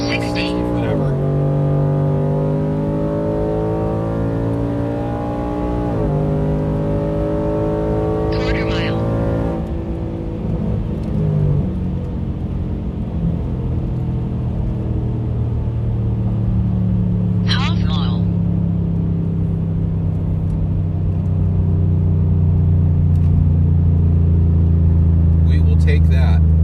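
A full-weight pickup truck on heavy stock STX wheels accelerates hard on a drag run, its engine rising in pitch through several gear shifts, loud and close, with brief voices over the drone.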